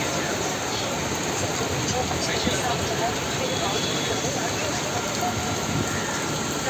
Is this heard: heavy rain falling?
yes